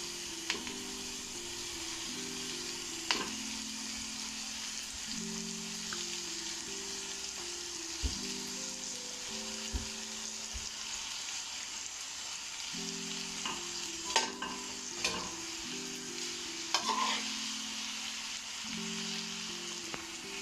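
Boiled noodles are stir-fried for chicken chow mein, a soft steady sizzle running throughout with scraping and tossing in the pan, plus occasional clatters and short tonal beeps from a nearby appliance.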